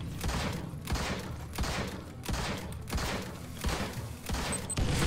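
Cannon gunfire in the video game Shards of War, a string of heavy, booming thuds repeating roughly every second over a dense background of battle noise.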